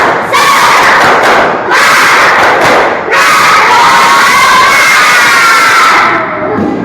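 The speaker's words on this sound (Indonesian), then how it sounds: "Tepuk semangat." A group performing the 'tepuk semangat' clapping chant, with loud, close rhythmic clapping, thumps and shouted cheering from many voices that surges and dips throughout.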